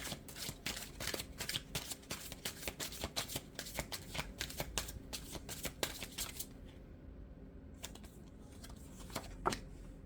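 Tarot cards shuffled for a reading, a dense, steady riffle of rapid card flicks that runs for about six seconds, then thins out into a few separate snaps, close and fairly quiet.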